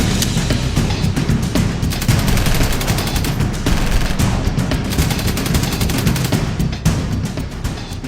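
Dense gunfire and machine gun bursts rattle continuously in a battle reenactment, rapid overlapping shots loud and close, with heavier booms mixed through the barrage and no pauses.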